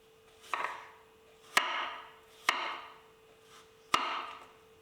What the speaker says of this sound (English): And need to slice quite thin slices.